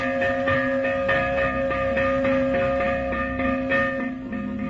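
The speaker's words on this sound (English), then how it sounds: "And when the fire bell sounded," A fire bell clangs repeatedly in a steady rhythm, ringing and resonant, over a dense continuous rumble of background noise.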